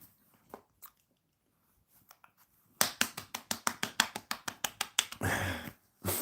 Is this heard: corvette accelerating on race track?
no